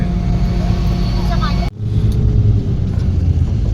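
A Shivshahi bus pulls away from a stop, with a low engine rumble and road noise inside the cabin. Partway through, the sound shifts abruptly to a duller, lower rumble as it gets moving.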